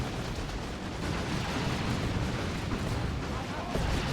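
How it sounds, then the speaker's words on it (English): A crippling volley artillery barrage in the Warhammer 40,000 strategy game Dawn of War 2 rumbles as a dense, continuous roar of blasts and booms, loud and sustained throughout, with a commentator talking over it. "That was the crippling volley."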